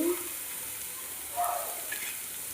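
Grated carrot dropped into a hot pan for carrot poriyal, a soft steady sizzle with a brief louder hiss and stir midway, faint and close.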